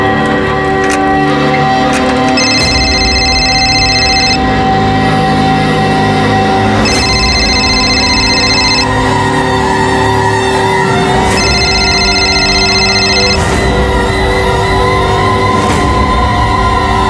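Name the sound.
telephone ringing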